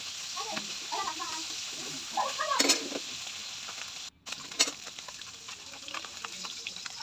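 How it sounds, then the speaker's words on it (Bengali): Golsha fish frying in oil, the second side cooking in the pan: a steady bright sizzle runs throughout, with a few brief louder spits and clatters and one short dropout midway. "অপর পিঠ আমি ভেজে নেব"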